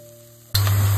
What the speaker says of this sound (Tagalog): saute the onion, one big onion